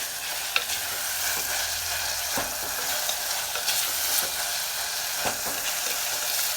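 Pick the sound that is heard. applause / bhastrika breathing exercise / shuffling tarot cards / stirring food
stirring food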